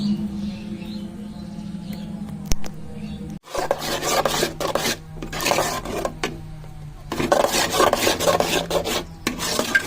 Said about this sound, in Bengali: আমি প্রত্যেকটা এইভাবে চেঁচে নিই